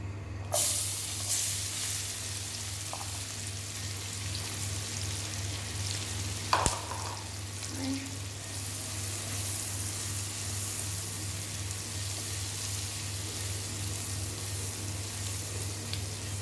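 Onions sizzle in a pan with turmeric for paneer butter masala, a steady close frying hiss throughout with a low hum, one brief sharp clink of a utensil partway through, and no talk.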